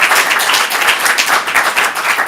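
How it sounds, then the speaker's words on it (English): A comedy club audience at a stand-up show claps loudly, a dense, sustained burst of applause heard close and alone. "Come on, give him a big round of applause."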